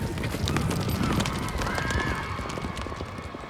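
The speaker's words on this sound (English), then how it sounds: "That horse is bucking pretty good" Bucking horse at a PRCA rodeo circuit finals, with hooves thudding and pounding in a busy, continuous rhythm under loud arena crowd noise and an announcer's voice.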